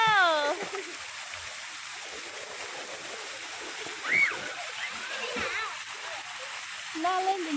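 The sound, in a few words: splashing in a swimming pool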